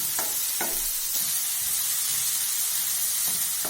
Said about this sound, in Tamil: ஒரு குடமிளகா இதுக்கு போதுமானது அதுவும் கொஞ்சம் நேரம் வதங்கணும்